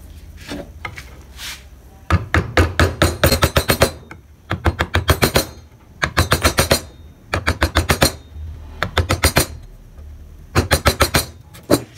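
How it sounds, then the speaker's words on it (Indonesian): A mallet drives a gouge chisel into wood while carving a barong motif, sounding as rapid bursts of sharp, close knocks in clusters of several strikes separated by short pauses. "Kita gunakan pahat penguku terlebih dahulu di bagian yang sebelah sini"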